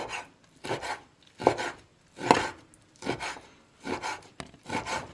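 Knife chopping beef into small pieces on a board in a home kitchen, about seven firm, evenly spaced cuts at close range with no talk.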